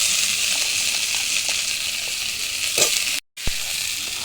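Potatoes sizzling in hot oil in a pan with fried lentil dumplings, a steady close frying hiss with light stirring taps and a brief break near the end.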